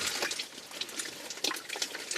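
A soaking wet shirt pulled from a cooler is wrung out, releasing a steady trickle and splatter of water that runs continuously with small bursts, close and moderately loud, with no talking.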